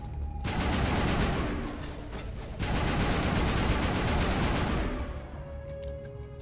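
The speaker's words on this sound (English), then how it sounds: "it's gonna switch to assault rifle" Assault rifle fire in Mass Effect rattles off in two long sustained automatic bursts, loud and close, with a brief gap between them and a fading tail at the end.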